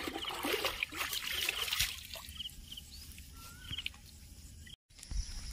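Water trickling and splashing while someone bathes outdoors with soap, an irregular watery wash that is louder at first and then softer, with faint birds in the background.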